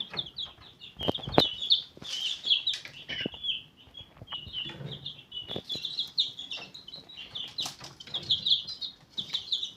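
Young chicks and cockerels in a backyard coop cheep in a constant high-pitched chorus, punctuated by sharp thumps and brief wing flaps, close by with no talking.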